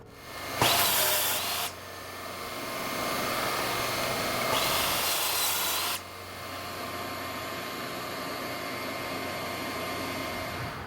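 A table saw rips walnut into strips: a steady motor whine runs throughout, broken by two louder, harsher bursts as the blade cuts through the wood, close and without talk.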